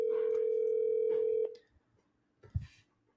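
A single steady tone from a phone ringing on an outgoing call lasts about a second and a half, then stops, followed by a brief soft clunk.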